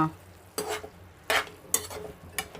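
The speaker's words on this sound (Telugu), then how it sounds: "ఇంకా మగ్గాలండి ఇవి కాసేపు మగ్గించుకుందాం ఈ వంకాయ ముక్కలు మగ్గే ఉంటాయండి" Brinjal pieces sizzle in a pan, broken by four short bursts of stirring and scraping spaced about a second apart.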